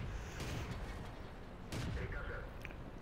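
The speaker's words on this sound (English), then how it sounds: "And artillery is still shooting at us." Artillery shells firing and exploding in the tank battle game World of Tanks, with a Churchill III fighting, heard as several loud booming bursts over a steady rumble, with a second strong blast near the middle.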